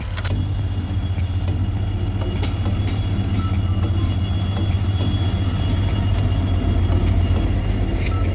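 An Indian local passenger train, the Yoga Express, runs along the rails, heard from onboard as a loud, continuous low rumble with a steady rattle and faint rhythmic clicks throughout.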